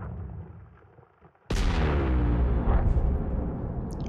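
A sudden heavy blast erupts in a space mining video game after a quiet stretch, then rumbles and rolls on loudly with a long, crackling decay.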